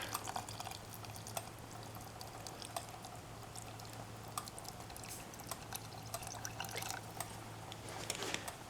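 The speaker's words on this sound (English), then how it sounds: "just add a little bit of water." Water poured into a pot of army chuck wagon stew gives a soft, steady liquid trickle with scattered drips and splashes, quiet and continuous with no talking.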